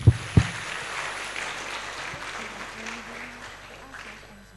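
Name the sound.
audience applause welcoming speaker to the stage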